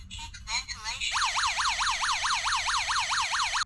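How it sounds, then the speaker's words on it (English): Carbon monoxide detector in demo mode sounds its alarm after a few short chirps, a loud, piercing rising and falling wail that repeats rapidly and steadily. "That's the demo mode, so you can see what it sounds like. But if it detects carbon monoxide, then that's what happens when it goes off."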